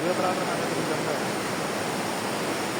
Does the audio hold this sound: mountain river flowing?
yes